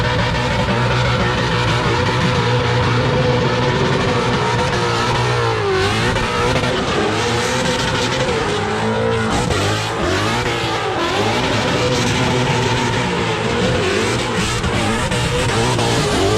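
A car engine screams at extremely high revs, loud and sustained, its pitch wavering up and down throughout, at a burnout event.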